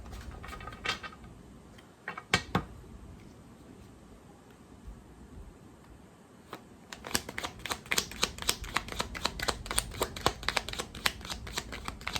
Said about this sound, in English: Let me just shuffle once more, get a couple more cards.